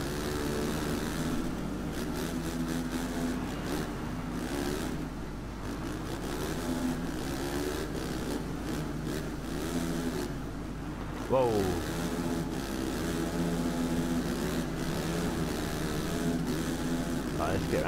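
450cc four-stroke motocross bike engine in the racing video game MXGP 3, a steady buzzing drone that holds its pitch, with a sharp rev change partway through, loud and continuous.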